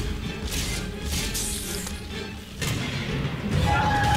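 Rocket launcher blasts from the video game Bioshock 2 boom with heavy thuds and crashing bursts amid muffled gameplay noise and a voice in the background.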